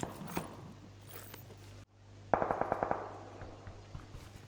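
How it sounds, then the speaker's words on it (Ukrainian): A rapid burst of gunfire in the game PUBG rattles out, about eight sharp shots in quick succession, followed by a few scattered fainter pops. "Хтось стріляє"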